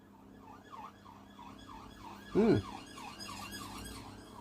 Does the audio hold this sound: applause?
no